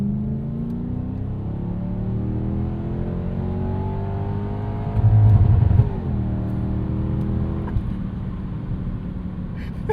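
1998 Lexus GS 400 V8 engine revving up toward its rev limiter, rising and falling engine pitch with a brief harsh bounce at the limiter, heard steadily from fairly close.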